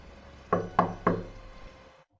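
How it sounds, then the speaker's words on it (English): Three sharp knocks on a door at night during a rainy spell, evenly spaced and fairly close, standing alone against a quiet background. "His thoughts were interrupted when a sudden knock came on the door."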